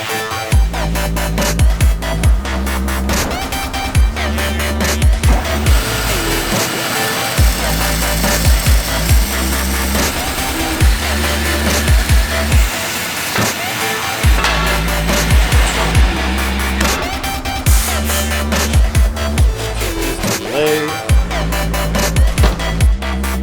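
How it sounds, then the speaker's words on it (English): Machining a long Dynatrac ProRock 44 axle tube for a Jeep Wrangler JL front axle to take its end forging, with loud, continuous metal-cutting noise and repeated impacts throughout, no talking. "Machine the tube for the end forging."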